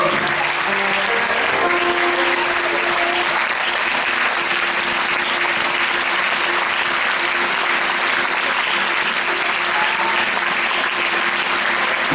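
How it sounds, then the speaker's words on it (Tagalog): A church congregation claps loudly and steadily for about half a minute, a dense continuous wash of applause filling the hall with no pauses. "Bigyan natin ng 30 segundong malakas na palakpak ang Panginoon"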